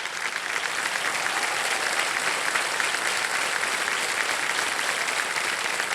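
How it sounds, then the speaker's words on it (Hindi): Studio audience applauding on a TV quiz show, Kaun Banega Crorepati, with a full, sustained wall of clapping that holds evenly from start to finish. "तालियां बज जाएं इनके लिए।"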